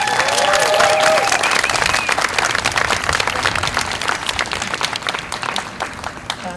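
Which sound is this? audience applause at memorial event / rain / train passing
audience applause at memorial event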